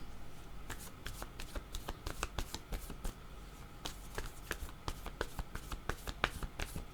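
Tarot cards shuffled for a reading, a dense run of quick riffling flicks and soft slaps close up, steady throughout with no talk.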